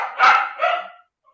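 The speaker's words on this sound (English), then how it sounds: "my dog couldn't wait till I started talking so he could start barking" A dog gives two sharp barks in quick succession, close and fairly loud, then falls silent.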